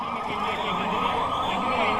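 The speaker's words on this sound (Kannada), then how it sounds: "ತುರ್ತು ಸಂದರ್ಭ ಎದುರಾದಾಗ ಮೊದಲಿಗೆ ಸೈರನ್ ಆಗುತ್ತೆ." An emergency siren wails continuously during a public mock drill, a steady, fairly distant tone sustained throughout with only faint background noise.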